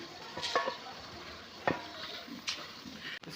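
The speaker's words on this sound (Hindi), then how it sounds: "प्याज को हमने अच्छी तरह ग्राइंड करके रख लिया और घी डाल दिया इसके साथ" Ground onion fries in ghee in a handi, giving a soft sizzle broken by a few sharp scrapes and knocks of a wooden spoon stirring against the pot, fairly quiet and close.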